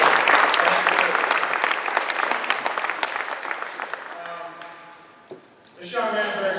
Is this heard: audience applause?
yes